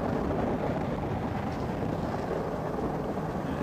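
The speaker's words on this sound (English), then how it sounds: "liftoff of the United Launch Alliance Atlas V rocket carrying SILENTBARKER NROL-107" A United Launch Alliance Atlas V rocket lifting off, a steady, dense, broadband roar that fills the whole stretch, loud and continuous with no voices over it.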